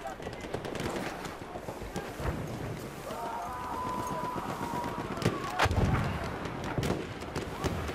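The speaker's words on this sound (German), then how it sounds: "wir versuchen mal hier ein bisschen außerhalb noch ein bisschen zu reiten" Horse galloping across a desert in Battlefield 1, with a rapid run of hoofbeats under distant gunfire, engine noise and game ambience at moderate level.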